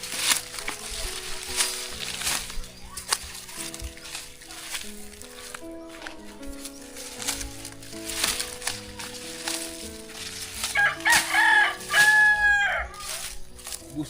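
Chickens cluck and a rooster crows on a rural farm in the Philippines, the calls rising over a busy layer of music-like tones and ambient noise, with a louder crow near the end.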